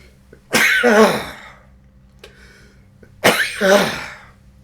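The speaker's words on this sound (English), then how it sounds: "I haven't had 2 sneezes in a row for a while" Two sharp, forceful sneezes after taking wintergreen dry snuff, a few seconds apart, each a loud burst with a breathy tail, separated by quiet with faint small noises.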